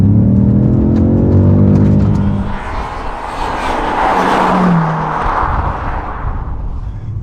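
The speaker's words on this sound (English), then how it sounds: "I'm just going to put traction control back on for this little flyby" A BMW M5 Competition roars past on a flyby, its engine loud and close at first with a rising rev, then fading into a rushing whoosh as it speeds away.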